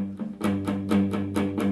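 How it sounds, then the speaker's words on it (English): A guitar plays a strumming pattern on the first chord, a rhythmic run of about six bright downstrokes ringing over sustained low notes, close and clear with no talking. "that's the strumming pattern of the first chord"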